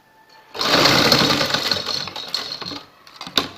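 A sewing machine stitches a folded fabric strip for a neckline design, running steadily and loud for about three seconds with a brief slowdown and a final clack near the end.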